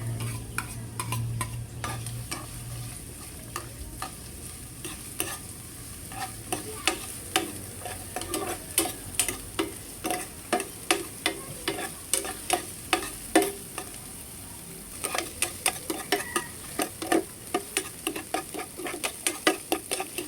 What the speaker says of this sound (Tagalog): Akin na pong igigisa, ito pong bawang, sibuyas at saka po yung luya.